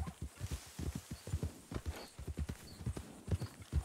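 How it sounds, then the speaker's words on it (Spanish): Hooves of a Morgan horse clip-clopping steadily in Red Dead Redemption II, a close, regular walking rhythm of many soft thuds with no talk over it. "un segundo que tenemos un caballo justo enfrente. Es un Morgan, creo."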